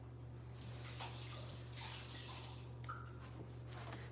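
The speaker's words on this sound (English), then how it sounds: "I got to rinse my knife off." Water from a kitchen tap runs steadily while a knife is rinsed under it during soup preparation, with faint clinks and splashes over the constant flow; no voices.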